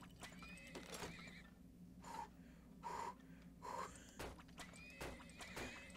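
Horses neigh and whinny repeatedly in the video game Turmoil, with several loud, close calls spaced across the moment over a steady bed of game ambience and faint hoof clatter.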